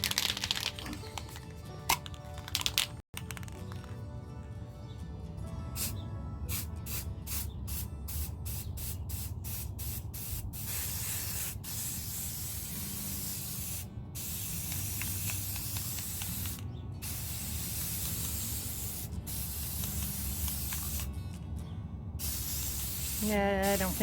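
A spray can hisses in long, steady bursts separated by short pauses, loud and close, with a few rattling clicks near the start.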